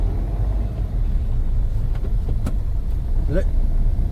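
Road traffic with passing cars on a busy street, a steady low engine rumble close by with faint clicks and a brief higher tone, and a voice heard over it.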